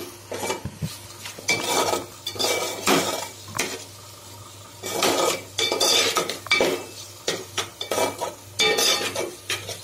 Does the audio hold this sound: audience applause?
no